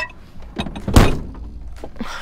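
A camper van door thuds shut once in a single solid slam, close and loud, with brief rustling before and after.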